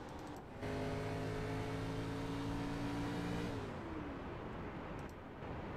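A video game K&N Series race car engine at Phoenix whines at high, steady revs, its pitch holding then dropping as the car slows, heard alone without talk.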